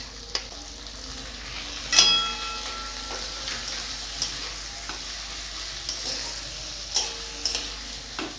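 Chopped onions frying with garlic paste, green chillies, whole garam masala and a bay leaf in a pan, a steady sizzle broken by the scrapes and knocks of a spatula stirring.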